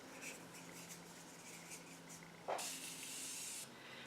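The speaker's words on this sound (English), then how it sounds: "now we are going to use setting spray. So I'm going to use my Morphe Continuous Setting Mist" A single hissing burst of Morphe Continuous Setting Mist, lasting about a second, comes from a makeup setting-spray bottle close by in a quiet room, after some soft handling noises.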